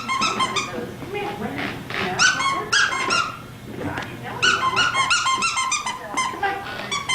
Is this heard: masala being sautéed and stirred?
no